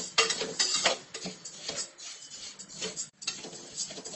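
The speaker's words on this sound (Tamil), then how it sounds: "கைவிடாமல் கொஞ்சம் வறுத்துட்டே இருக்கணும்." Moong dal and rice are dry-roasted in a pan for pongal while a spoon stirs and scrapes continuously, making a busy, close patter of grains and metallic scraping with short pauses.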